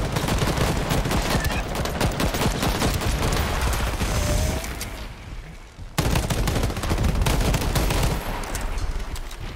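Rapid sidearm pistol gunfire in Shatterline during a co-op expedition, loud and dense shots that pause briefly midway, then resume.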